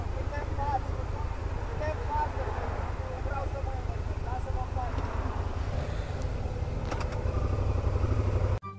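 A motorcycle engine idles steadily close by, a continuous low rumble running the whole time, with voices talking over it and a brief cut at the end.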